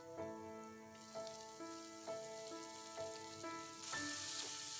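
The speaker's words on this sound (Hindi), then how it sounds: "प्याज को अच्छे से हाई फ्लेम पे पका लेंगे ताकि इसका मॉइस्चर खत्म हो जाए।" Finely chopped onion cooking on high flame gives a soft, continuous sizzle, heard faintly under steady musical tones with regular plucked notes, growing a bit brighter toward the end.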